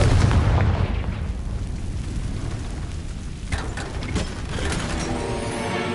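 A Confringo fire spell bursts in Hogwarts Legacy, a loud booming blast at the start that rumbles on under a dense crackling wash, with smaller thuds and flares following later.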